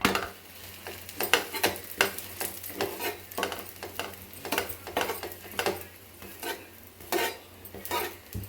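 Instant parotas frying in a pan. A spatula stirs and scrapes in a quick, uneven rhythm over a soft sizzle, with repeated metallic clinks and no talking.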